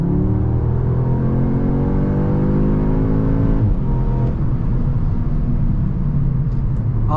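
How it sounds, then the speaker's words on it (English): A 2023 Audi S3 in dynamic mode accelerates at full throttle onto a highway, the engine note climbing steadily through the revs, then dropping briefly at a gear change before rising again amid road and wind noise. "Let's do a full acceleration."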